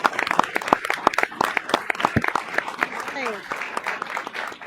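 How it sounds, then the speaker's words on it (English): A meeting audience breaks into a round of applause, many hands clapping at a moderate distance in a dense, steady patter that continues for several seconds. "if all of you would please give this man a round of applause"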